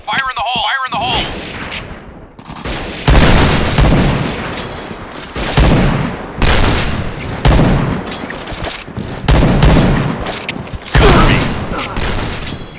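Grenade blasts go off in the Point Blank shooter game, several loud booming bursts spaced a second or two apart amid heavy gunfire, with voices calling out between them.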